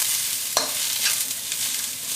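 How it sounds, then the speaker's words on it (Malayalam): Sliced onions softening in hot oil in a pan for chilli beef, a soft steady sizzle with a couple of brief scrapes of stirring and no voices. "സവാള പതുക്കെ ഒന്ന് ചൂടായാൽ മതി"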